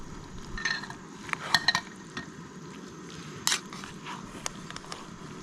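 Backcountry goulash with hamburger, pasta and tomatoes being stirred in a pot, with scattered soft scrapes and clinks of a utensil against the pot over a low, steady background hiss.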